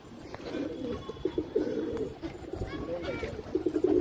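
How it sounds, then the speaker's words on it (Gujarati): Soft, low pigeon coos repeat throughout over a noisy outdoor background, with faint chirps and distant voices. "કબૂતરની ફટકી મારે છે"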